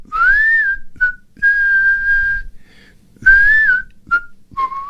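Someone whistles a tune in clear, bright phrases, some held and some short, with brief pauses between them and soft handling noises underneath.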